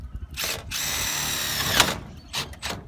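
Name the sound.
power drill driving a screw into roof fascia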